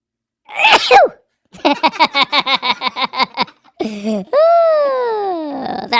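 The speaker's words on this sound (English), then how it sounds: "Man, I have got to sneeze." A loud, close sneeze in a podcast studio, followed by a rapid string of voiced bursts and then drawn-out vocal sounds, all right at the microphone.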